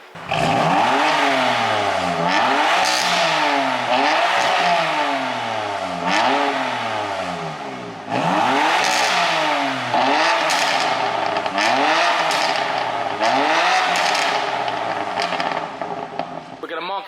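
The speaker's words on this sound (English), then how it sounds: "it'd be rude of me not to rev the engine." A BMW M4 engine revs repeatedly indoors, rising and falling in pitch in a steady series of loud, close bursts, with crackling between the revs.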